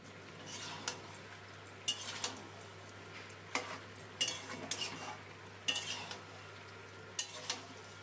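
Spices sautéed with chicken and vegetables in a pot for a stew, soft steady sizzling under repeated scraping and clinking strokes of a metal spoon against the pot, several louder knocks spaced a second or so apart, close and without speech.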